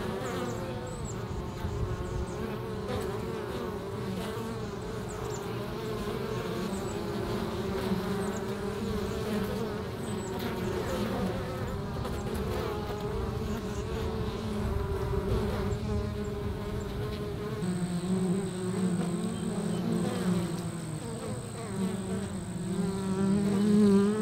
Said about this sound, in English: If you've got a lot of bees going in and out and they're carrying pollen in their pollen baskets like this